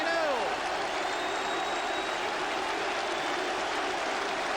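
Football crowd at Newcastle United versus West Ham in 1986 applauding and cheering a goal, a steady dense roar of clapping and voices filling the whole stretch, with a commentator's voice over it.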